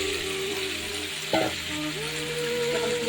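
Meat sautéing in a pan with light spices, a steady frying sizzle that runs throughout, with a brief louder clatter of stirring near the middle.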